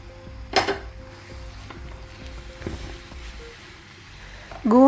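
Boondi is mixed into sugar syrup in a pan, with a few sharp metallic scrapes and clinks of a utensil against the pan over a quiet background. A voice starts speaking at the very end.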